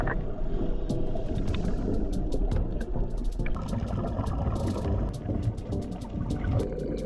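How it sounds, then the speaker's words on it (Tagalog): A boat motors from Torrijos to a dive site in Marinduque, a steady engine drone mixed with wind buffeting and splashing water, with scattered clicks and knocks and no talk. "Hindi lalagpas sa 15 minutes ang biyahe ng bangka mula sa Torrijos papunta sa dive site natin."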